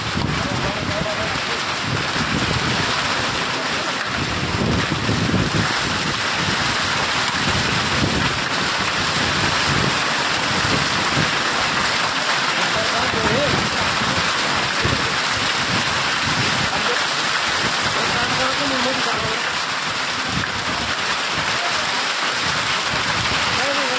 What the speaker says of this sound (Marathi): जोरदार वादळी वाऱ्यासह पावसाने हजेरी या ठिकाणी लावलेली आहे